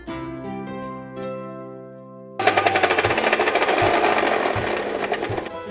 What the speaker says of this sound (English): grind this garlic to a fine paste